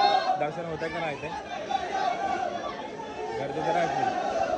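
A dense crowd chatters continuously at the Ekvira Aai palkhi procession in Karla, with many overlapping voices merging into a steady close-up hubbub throughout.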